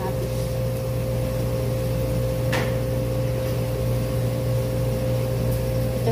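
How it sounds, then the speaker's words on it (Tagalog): A kitchen blender chopping tomatoes runs with a steady, droning motor hum that holds constant from start to finish. "Binilender natin kamatis."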